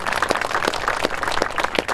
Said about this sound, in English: Could you give him all a big applause